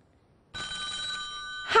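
A telephone bell rings in one steady, bright trill that starts abruptly and holds for over a second, close and clear, before a voice begins to answer at the end.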